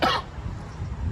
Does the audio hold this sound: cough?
yes